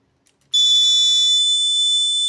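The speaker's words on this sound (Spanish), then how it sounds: "Está sonando la alarma y está prendiendo el foco." A homemade burglar alarm set off by stepping on a pressure plate at a house entrance starts abruptly after a short silence, a loud, piercing electronic tone held steadily until the end, with a couple of faint clicks before it.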